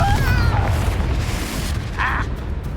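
A Confringo blasting spell detonates in Hogwarts Legacy, a loud booming burst with a whooshing magical tail amid the spell-combat soundscape, close and forceful.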